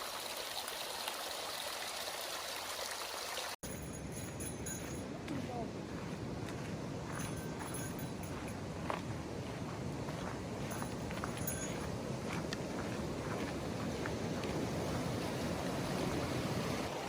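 A stream flowing at a river crossing on the Timberline Trail in Oregon gives a steady, broadband rush of running water that fills the whole recording close up, with no voices over it.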